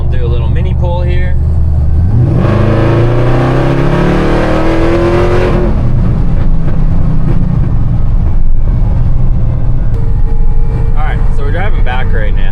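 A modified Dodge Dakota pickup truck does a short mini pull: the engine roars loud and close, revving up in a rising sweep, then settles back into a rumbling idle with some crackle.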